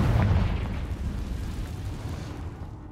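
A Confringo fire spell explodes in the video game Hogwarts Legacy, giving a loud deep boom that rolls on as a rumbling tail and slowly fades over a few seconds.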